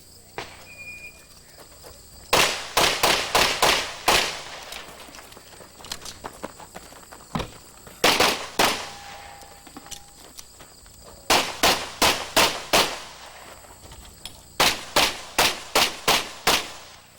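Rapid pistol gunfire on an IPSC practical shooting stage at the 1990 USPSA National Championships, sharp loud shots in quick clustered strings separated by brief pauses, with crickets chirping faintly in the background.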